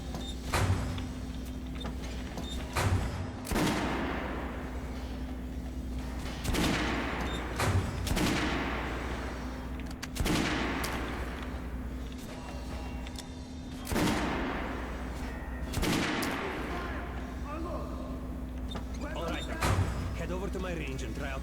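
Gunfire rings out at a shooting range in the video game Metro: Last Light Redux, with repeated loud bursts every few seconds over a steady background hum and game voices.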